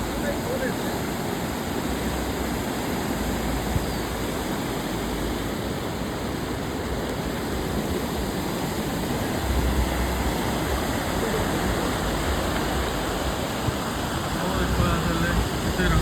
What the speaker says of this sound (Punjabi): ਬਹਾਵ ਤੇਜ਼ ਔਰ ਪਾਣੀ ਦੀ ਆਵਾਜ਼ ਦੇਖੋ ਚੈੱਕ ਕਰੋ ਇਹ ਸਮੁੰਦਰ ਦੀ ਆਵਾਜ਼